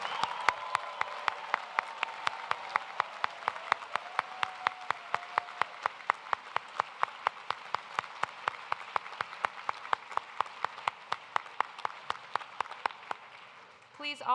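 Graduates at a Duke Engineering master's hooding ceremony receive a long round of audience applause with a few sharp, evenly spaced claps standing out above the crowd throughout and a low murmur beneath.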